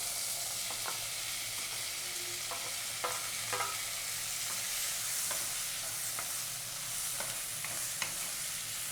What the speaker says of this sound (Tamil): பாருங்கள், நல்லா வதங்கிருச்சு. இப்போ நம்ம தக்காளியை இது கூட சேர்த்துக்கலாம்.